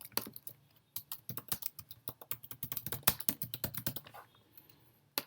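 Typing on a computer keyboard while entering items in invoicing software: close, crisp key clicks in irregular bursts, with brief pauses between runs of keystrokes.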